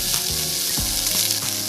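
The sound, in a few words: onions frying in a pan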